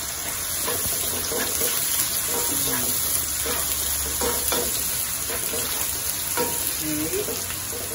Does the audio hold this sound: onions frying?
yes